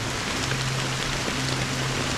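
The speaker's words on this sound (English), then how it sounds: "How long has this rain been ongoing?" Steady rain in the video game Honkai Star Rail, a dense even hiss of falling water with a low sustained hum beneath, continuous and without voices.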